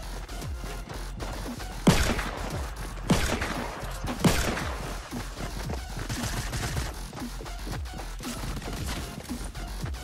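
Fortnite Battle Royale gunfire comes as three loud, close shots spaced about a second apart, then a stretch of softer rapid shots and thuds in busy game noise.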